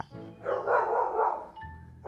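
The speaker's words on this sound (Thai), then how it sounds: "เมื่อกี้ไปดูหมามานะหมามันเห่าครับ" A dog gives one drawn-out, close bark with a whining edge that lasts about a second and a half, followed by a short quieter yelp at the end.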